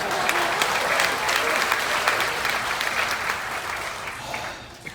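A crowd at a magic and comedy show aboard the Carnival Spirit cruise ship claps warmly for a volunteer named Ed; the dense applause starts strong, then gradually thins and fades over five seconds.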